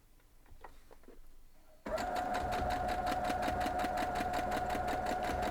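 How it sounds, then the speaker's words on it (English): A sewing machine stitches a quilt block seam for a combination star block. It starts abruptly after a quiet moment and runs steadily with a fast, even mechanical whir and rhythmic stitching clatter. "We're going to go sew it up."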